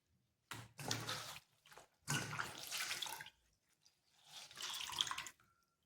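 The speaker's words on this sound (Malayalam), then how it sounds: "അപ്പോൾ ഞാൻ ശരിക്കൊന്നേ ഫേസ് ഒന്ന് കഴുകിയിട്ട് വരട്ടെ" Running water from a tap splashing in a sink as a face is washed during an at-home facial, in three loud bursts separated by short pauses and drips.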